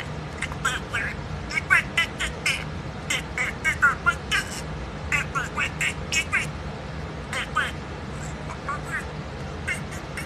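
Duck quacking in short repeated bursts, some in quick clusters, over a steady background of people talking and babble nearby.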